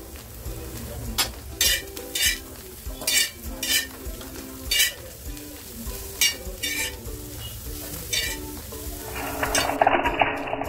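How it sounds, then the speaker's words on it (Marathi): Boiled cluster beans are sautéed in a pan, with repeated scraping spatula strokes in bursts over a steady background sizzle and the occasional clink of utensils. "आता जी गवारी मी बॉईल करून घेतली आहे ना, ती सुद्धा थोडीशी परतवून घेते"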